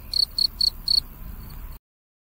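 Four crisp, high-pitched cricket chirps in a steady rhythm, clear and close, then fainter chirping before the sound cuts off.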